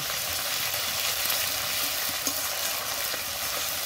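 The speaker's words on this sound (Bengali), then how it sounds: "আদা রসুন দিয়ে কিছুক্ষণ নেড়ে নেব।" Onion fries with ginger and garlic paste in a pan for a lote fish curry, a dense, loud, continuous sizzle with constant stirring scrapes close by and no speech.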